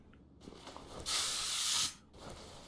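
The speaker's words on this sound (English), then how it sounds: "Spray it and then leave it." Aerosol spray can blasting engine bolts in Car Mechanic Simulator 2021, one steady close hiss lasting under a second amid quiet game ambience.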